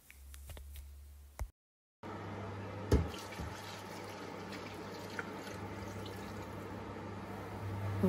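Two litres of water poured into a pot of chicken, soaked chickpeas and pepper for a Moroccan couscous broth, a steady close liquid rush running alone after a brief pause.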